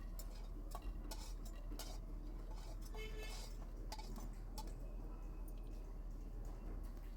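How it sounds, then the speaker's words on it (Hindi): Fox nuts (makhana) are dry-roasted in a pan and stirred with a ladle, making a quiet, continuous rustle broken by scattered metallic clinks and scrapes. "अच्छे से करछी की सहायता से चलाते हुए मखानों को भूनना है"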